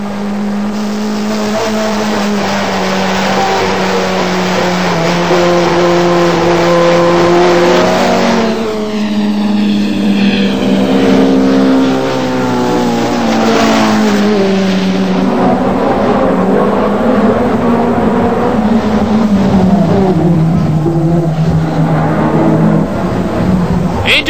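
Ford Sierra RS500 touring cars racing at Brands Hatch, with loud continuous engine roar, rising and falling revs through gear changes, and cars passing close by in a tight group.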